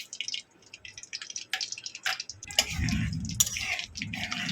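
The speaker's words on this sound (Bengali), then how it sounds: "তেল গরম হয়ে গেছে বন্ধুরা আমি এখানে কালো জিরে আর লঙ্কা একটা ফোড়ন আমি দিয়ে দেবো" Black cumin seeds and dried chilli dropped into hot vegetable oil, giving a dense, close crackle of tiny spits and pops that swells to a steady loud sizzle.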